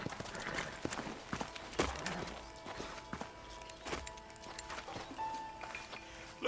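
Horse hooves clip-clop at a walking pace in the video game Red Dead Redemption, with irregular, fairly soft steps over faint background ambience.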